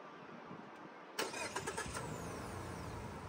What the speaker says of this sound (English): And the vehicle starts right up.